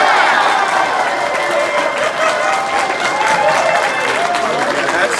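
A convention audience at a Bronycon 2018 game show breaks into loud, sustained applause mixed with cheers and shouts, a dense, steady roar of clapping throughout.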